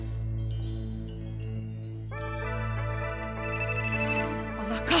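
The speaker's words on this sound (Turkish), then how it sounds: "Çabuk şu numarayı çevir bana." A hotel telephone rings after a number is dialed, a steady electronic ringtone with repeating tonal bursts that grows fuller and brighter partway through, over a low hum, with no talk.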